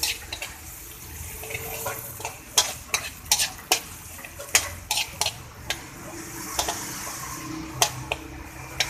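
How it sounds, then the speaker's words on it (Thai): Chili and garlic being dry-toasted and stirred in a pan, a low sizzle broken by a series of sharp spatula clacks and scrapes against the metal at an irregular pace, close up and without talk. "พริกกระเทียมค่ะ คั่วให้หอมก่อนนะคะ"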